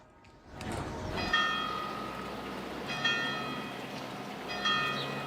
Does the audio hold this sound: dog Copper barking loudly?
no